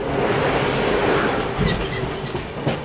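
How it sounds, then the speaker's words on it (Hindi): The Awadh Express, hauled by a WAP-7 electric locomotive, rumbles past on the main line with a steady rolling roar, rhythmic wheel clatter and faint squeals, loud and near. "सामने से आ रही है अवध एक्सप्रेस। वैप 7 लोकोमोटिव के साथ"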